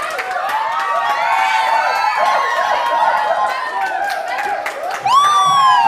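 Studio audience applause and cheering on a Sindhi TV game show, a dense crowd roar with whoops that holds steady throughout and swells near the end, while a host's voice talks over it.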